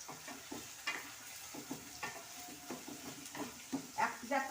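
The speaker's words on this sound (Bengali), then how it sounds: "এবার এটাকে ভালো করে সুন্দর করে নাড়তে হবে।" Ground spices such as turmeric and chilli powder are stirred in a cooking pot, with quick repeated scraping and sizzling strokes in an uneven rhythm, fairly soft and close.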